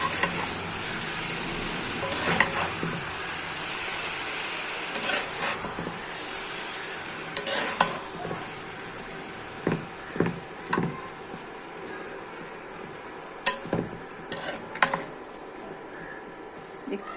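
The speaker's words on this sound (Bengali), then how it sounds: "এখন শাক আর আলু কেটে রেখেছি, ধুয়ে কেটে রেখেছি, দিয়ে দিলাম।" Chopped leafy greens and potatoes frying in a pan, a steady background sizzle broken by repeated scraping clinks of a spatula stirring, with occasional faint voice.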